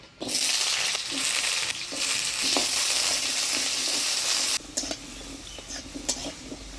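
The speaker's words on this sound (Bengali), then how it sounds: "তেল গরম হয়ে গেছে, প্রথমে আলুগুলো ভেজে নিব" Potatoes fry in hot oil at a village cooking hearth, a dense loud sizzle with stirring scrapes that drops abruptly to a quieter crackle partway through.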